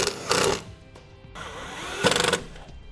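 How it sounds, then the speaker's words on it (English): Self-tapping screws driven by a power drill while fitting a trailer brake controller in a 2016 Ford Transit T350: two close, short, buzzing whirs of the driver with a quieter pause between them. "We'll just secure these into place with the provided self-tapping screws."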